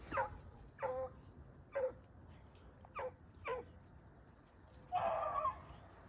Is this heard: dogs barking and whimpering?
yes